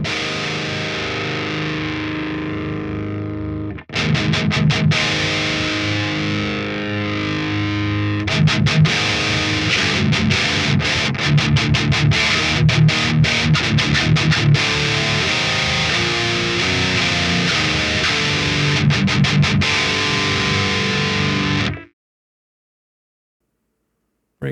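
Electric guitar played through a Fortin Big Chugs distortion pedal set to a scooped-mid tone, heavy saturated riffs with palm-muted chugs and sustained chords, loud and alone, stopping abruptly near the end.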